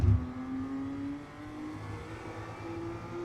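A BMW M2 CS engine in iRacing accelerates hard out of a corner at Navarra Speed Circuit after a downshift to second gear, with a rising engine tone that climbs steadily, dips briefly, then pulls again.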